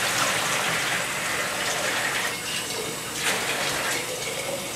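Cabbage for Polish kapusta is rinsed under a steady, full stream of running water, a continuous close splashing rush that holds at an even level throughout.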